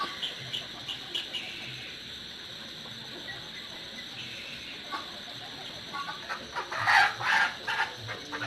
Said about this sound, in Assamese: এইটো হৈছে চিল্কি মুৰ্গী